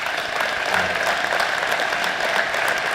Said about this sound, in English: I wish you'd give them a round of applause for that